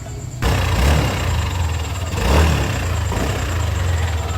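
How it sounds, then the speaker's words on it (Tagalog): A Yamaha Aerox v2 motor scooter engine starts up and idles nearby with a steady putter, the motor swelling briefly a couple of times as it runs. "pakinggan nyo po muna mga boss kung ano yung tunog ng makina"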